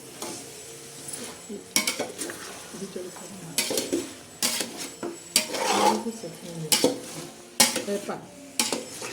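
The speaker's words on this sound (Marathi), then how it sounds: "आता हे चिंक चांगलं हलवून घेणार आहोत" A spoon stirring biryani in a metal pot gives repeated scraping and clanking strokes in an uneven rhythm over a soft sizzle, with a voice speaking at moments in between.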